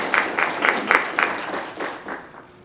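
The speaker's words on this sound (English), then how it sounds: "let's please give him a round of applause" An audience at a university forum event gives a round of applause for a GitHub founder, loud rhythmic clapping in distinct pulses that gradually thins and fades out.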